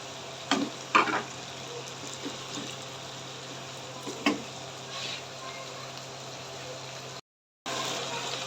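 Steady sizzling of garlic ginger paste frying in a hot pan, with a few louder clicks and stirring scrapes, briefly cutting out near the end.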